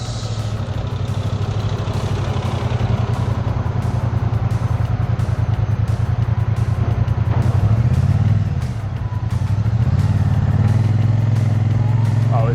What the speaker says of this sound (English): it's a Triumph Bonneville, beautiful power delivery